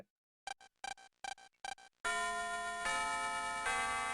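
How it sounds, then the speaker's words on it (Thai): School bell chime from the Mega Man Battle Network 6 video game: a short series of bright ringing tone bursts, then a loud sustained, steady electronic bell tone that carries to the end. "ระฆังดังแล้ว"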